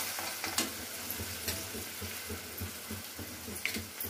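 Masala spices with red chili powder, salt and turmeric sizzle steadily in a pan while a spoon stirs them, with close, rhythmic scraping and light clinks over the continuous frying hiss.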